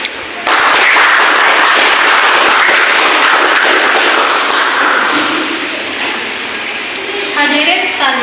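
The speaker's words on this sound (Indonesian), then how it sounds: "berikan tepuk tangan yang meriah kepada Dewan" An audience at a ceremony applauds for the jury, a dense, loud burst of clapping that starts abruptly and continues steadily for several seconds before gradually thinning out and fading.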